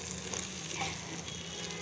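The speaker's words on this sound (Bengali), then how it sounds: "এখন একটু তেলের উপরে ভাজা ভাজা করতেছি।" Beef tripe frying in oil in a pan, a steady close sizzle and crackle that continues throughout, heard alone with no talking.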